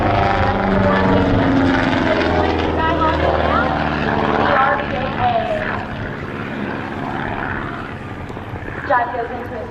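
A small RV-8 aerobatic airplane's propeller engine drones loudly through a flat 360 at an Oshkosh airshow, with its pitch shifting as the plane turns. An announcer talks over it.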